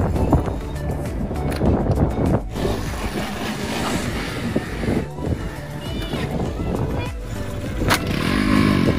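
Motorbikes revving as boys perform stunts on a coastal road near Dhanushkodi, with loud rough engine noise, wind buffeting and surges in throttle, and voices underneath.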